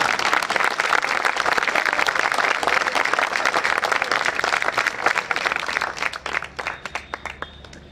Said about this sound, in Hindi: केवल यादव ताली बजा रहे हैं क्या?